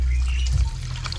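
Water trickling and pouring into chicken feed, a soft steady splashing with a brief louder gush midway, close and moderately quiet with no voices.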